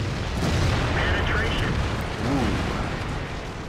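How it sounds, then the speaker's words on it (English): Artillery shells explode in a World of Tanks battle, with booming bursts and rumbling blasts that stay loud throughout the clip over a constant wash of battle noise. "the artillery is aiming at us as well"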